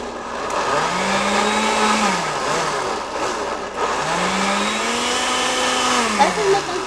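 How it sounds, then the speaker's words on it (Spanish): Electric kitchen blender grinding seasoned ingredients for mole, a steady whirring drone with rising and falling motor pitch across two pulses, loud and close, with faint talk in the background. "Entonces ahorita vamos a moler lo que es esto. Ay, la licuadora."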